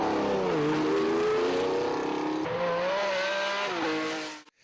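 A £1.5 million racing car roars around Cadwell Park circuit in Lincolnshire at high speed, its engine note rising and falling through gear changes before fading away at the end. The sound is loud and close, with no talk.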